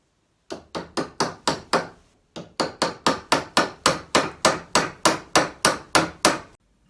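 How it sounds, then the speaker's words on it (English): Rapid, evenly spaced hammer blows assembling a harmonica pitch pipe, a short burst of six, a brief pause, then a longer run of strikes, loud and close. "And for that we need a hammer"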